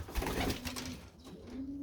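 Domestic pigeons coo softly in a close, enclosed loft, with soft rolling calls overlapping and a second bird answering.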